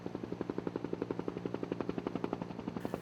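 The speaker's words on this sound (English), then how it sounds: "A scenic flight for tourists along the Vaal River with a noisy Huey helicopter" A Huey helicopter thuds overhead along the Vaal River with fast, steady rotor blade beats, loud and close, continuing throughout without a pause.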